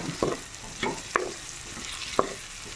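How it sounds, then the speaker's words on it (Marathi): Baby potatoes frying in oil with turmeric and chili in a wok, stirred with a spatula: a steady sizzle broken by four sharp scraping knocks against the pan, close and fairly loud, with no voices. "भाजी बघा कशी फ्राय होत आहे, तेल सुटलेलं आहे कढईला"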